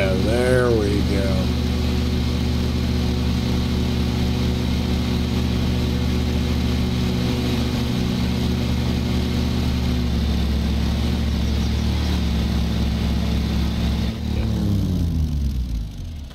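A lawn mower engine in the video game Lawn Mowing Simulator runs steadily and loud, a continuous mid-pitched drone with a brief rising rev near the start and a change in tone near the end.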